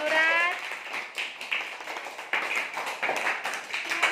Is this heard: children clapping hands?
yes